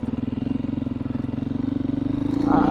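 A dirt bike runs on a steep, windy Colorado trail, its engine throbbing in a steady low pulse close by that swells louder near the end.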